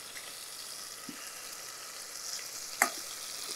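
Ginger garlic paste and turmeric sauté lightly in hot oil, giving a quiet, steady sizzle with faint stirring clinks and one brief sharper scrape near the end, with no talking.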